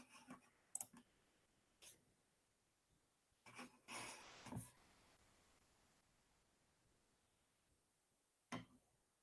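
Computer mouse clicks, a few sharp isolated clicks spread across a quiet stretch with a short burst of rustling handling in the middle, close and faint.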